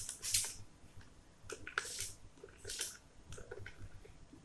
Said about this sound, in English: now I'm going to hold it at a slight distance and then I'm just going to spray it with water.